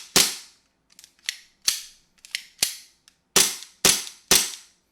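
Eight sharp pops from an airsoft gun with a Black Vanta mid frame fired in a desk pop test, spaced irregularly and loud up close, each snapping cleanly with a faint mechanical click between some shots.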